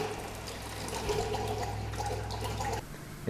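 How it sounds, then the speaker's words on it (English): Water runs steadily from the faucet of an OASIS water cooler, a continuous hissing flow with a low hum underneath that drops off near the end. "Open the faucet and continually dispense until air has been removed from the system."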